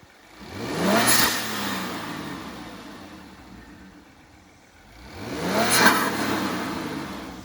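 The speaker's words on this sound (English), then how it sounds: "we're going to go ahead and rev it up a little bit and see what kind of sounds we can get from these things" A 2022 Kia Stinger fitted with aftermarket blow-off valves revs twice, each rising engine surge ending in a hissing valve release, close and loud with a lull between.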